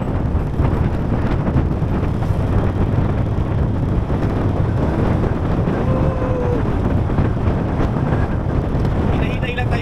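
Strong wind roars and buffets the microphone during a solo long motorbike ride on a road in Southern Leyte, a loud, steady broadband rush that lasts throughout.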